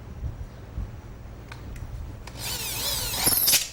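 A power drill whirs up to speed and bores briefly into a Conwood board for a DIY planter, preceded by a few light clicks and taps.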